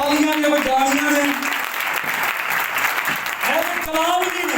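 Clapping from a congregation at a church service runs steadily throughout, under a voice that talks or sings over it.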